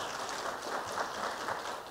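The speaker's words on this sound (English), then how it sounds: "An applause for their first opening statement" Steady applause from a debate audience following a candidate's opening statement, an even wash of many hands clapping at moderate volume, continuous throughout with no voices.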